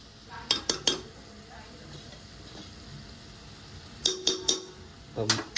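Masala is stirred and mixed in a pan: bursts of quick metallic clinks and scrapes from the spoon come in short clusters over a faint background sizzle, with some quiet talk.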